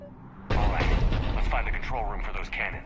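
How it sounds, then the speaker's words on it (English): Heavy cannon fire booms and rumbles in the Mass Effect video game, a sustained loud barrage with repeated blasts and explosions, while voices talk over the din. "The cannon fire is clearing the way."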